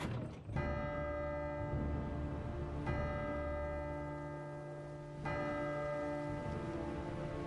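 A deep bell in the video game Syberia strikes three times at slow, even intervals, each ring hanging on with a long metallic hum over a low background.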